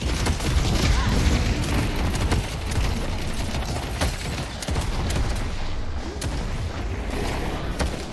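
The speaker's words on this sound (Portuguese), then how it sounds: "Tem alguém lá em cima atirando na gente." Dense gunfire in the Deadlock video game, heavy overlapping shots and booms in a continuous barrage, loud and close throughout with faint talk underneath.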